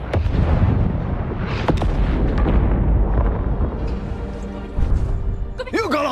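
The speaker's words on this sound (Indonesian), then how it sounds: "Tiba-tiba terdengar suara ledakan dari arah jembatan itu." Explosions from American bombers striking a bridge in the war film The Sacrifice: a dense, loud rumbling blast with crackling bursts and booms, heavy low-end roar throughout, and a voice speaking over the chaos.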